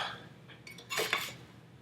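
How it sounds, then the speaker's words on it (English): Baked vegan eggplant slices come out of the oven onto a plate, making a soft dish clatter with a brief cluster of clinks at its peak over a quiet background hiss, with no speech. "let's take these out of the oven and put them on a plate to see how they turn out"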